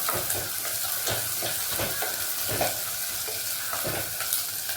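Chopped onions and garlic sautéing in a pan for a fish curry: a dense continuous sizzle up close, broken by repeated scraping strokes of a spatula stirring at an uneven rhythm, with no talking.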